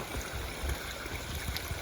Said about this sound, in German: Wir haben jetzt hier einen kleinen Bach gefunden. Da läuft das Wasser.